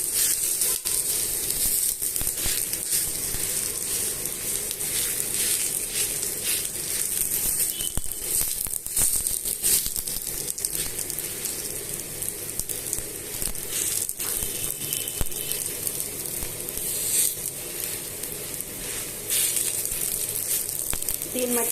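Kanda attu batter sizzling on a hot pan, a constant bright crackling hiss that stays loud and even throughout with faint rattles, while someone talks.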